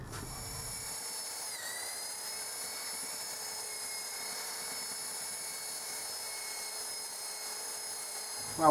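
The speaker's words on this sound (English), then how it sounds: "And then next up, a little bit of sanding" A power sander works steadily on scrap 2x4 and 2x6 lumber being prepared for a small folding table, giving a continuous high-pitched whine that runs unbroken at an even level and stops abruptly at the end.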